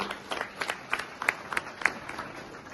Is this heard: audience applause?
yes